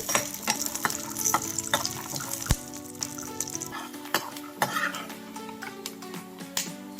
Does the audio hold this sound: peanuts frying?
yes